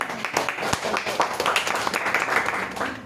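A class in a classroom claps continuously for a few seconds in dense, steady applause.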